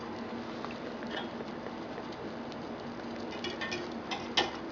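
Beef broth sauce simmers in a pan for sizzling pork chop, a soft steady bubbling and faint ticking patter running throughout, close and quiet, with one small louder pop near the end.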